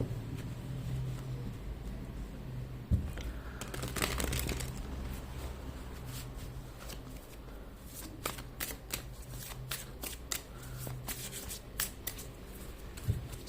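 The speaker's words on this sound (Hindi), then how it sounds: "So let's first take out some cards from here." Playing cards being pulled from a deck and handled at close range, with a steady run of soft riffling, sliding and snapping, quiet and with no talk.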